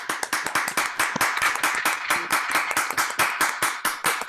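An online audience, unmuted over their microphones, claps for a music-education presenter with brisk, closely spaced hand claps in a steady overlapping rhythm for several seconds.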